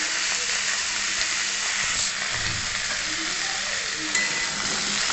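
Pumpkin pieces fry in a pan of hot oil with a steady, close, broadband sizzle that continues unbroken throughout, with faint stirring movements and no voices.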